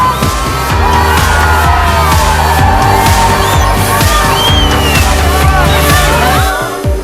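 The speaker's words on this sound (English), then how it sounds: "watch the crowd go wild" A large crowd of spectators roars and cheers as Dakar Rally 2017 cars pass, with engine drone, revving and tire noise mixed into a loud, continuous outdoor din.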